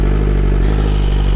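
A 2022 BMW S1000RR with an inline four-cylinder engine idles close by, a loud, steady, smooth engine hum with a fine pulsing rhythm, heard alone for a brief moment.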